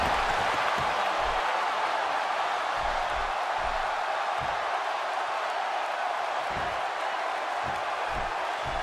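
A virtual arena crowd in the WWE 2K16 wrestling game on PS4 roars and cheers during a match, a constant loud wash of noise with faint low thumps underneath.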